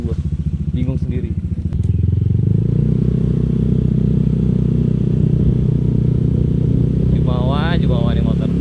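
A Honda Vario scooter engine idles with a rattly beat, then the throttle opens into a loud, sustained rev close by, and a voice speaks briefly over it.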